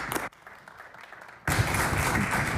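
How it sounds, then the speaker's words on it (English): Applause breaks out in the Nova Scotia legislative chamber, a brief burst, then a quieter gap before dense, loud clapping from many members resumes. "If you could rise up and get the applause of the House"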